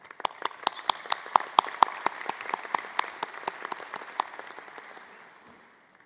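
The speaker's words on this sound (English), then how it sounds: "please, a round of applause for the Prime Minister of Kazakhstan" A conference audience applauds the Prime Minister of Kazakhstan at a leaders' dialogue on economic development, with distinct claps that swell, then thin out and fade away toward the end.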